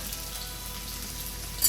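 Garlic, ginger and green chilies fry on a high flame for an Indo-Chinese veg fried rice, a steady broadband sizzle that stays even throughout, with a brief louder crackle near the end.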